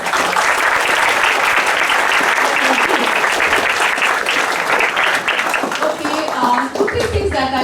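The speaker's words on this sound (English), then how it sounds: "they deserve a big round of applause." At a school assembly, students and staff applaud in a sustained, loud wash of clapping that runs several seconds, easing slightly near the end as a voice begins to come through.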